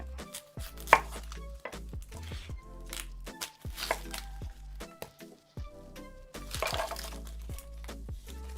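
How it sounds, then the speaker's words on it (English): An onion is chopped with a knife on a board in a series of sharp, close, irregular chops and taps, with brief pauses between bursts and no talking. "I take the top off, leave the root on, cut it in half"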